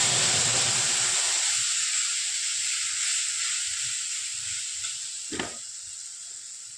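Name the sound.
spice paste added to frying tempering spices, sizzling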